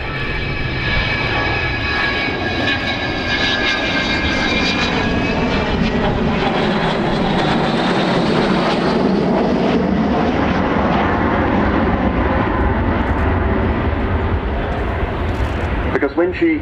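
Avro Vulcan XH558 delta-wing bomber flying at the RIAT air show, its engines giving a loud, steady roar across the whole clip with shifting whine tones as it passes.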